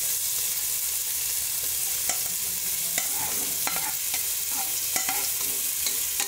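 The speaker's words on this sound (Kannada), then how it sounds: "ಎಣ್ಣೆ ಕಾದಾದ್ಮೇಲೆ ನೀವು ಈರುಳ್ಳಿ ಹಾಕ್ಕೋಬೇಕು" Finely chopped onions frying in hot oil and ghee, a dense steady sizzle with intermittent scraping stirs and light utensil taps, close-up with no voices.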